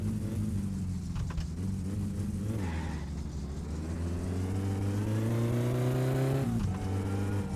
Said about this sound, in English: Why is the car running on such low revs? That's like almost stalling revs.